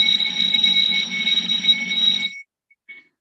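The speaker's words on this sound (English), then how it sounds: "there's a fire alarm testing going on in my neck of the woods" A loud fire alarm sounds during a test, a steady piercing electronic tone ringing continuously for over two seconds before cutting off abruptly, followed by a faint brief chirp.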